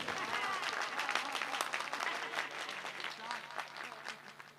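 Applause at an Urdu poetry recital (mushaira), a fairly quiet but steady patter of clapping from an audience, with some voices mixed in.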